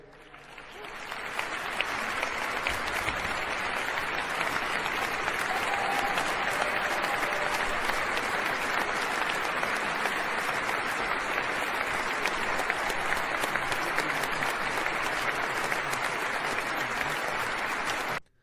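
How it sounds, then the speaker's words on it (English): Long, sustained audience applause fills a large hall, a dense and even wash of clapping and crowd noise that holds steady at full strength before cutting off abruptly. "I leave the applause up because he deserves it"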